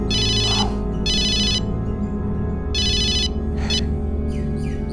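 A mobile phone ringtone rings in repeated bright electronic bursts, loud and close, in a room with a low background hum, while someone searches for the handset; faint bird-like chirps appear near the end.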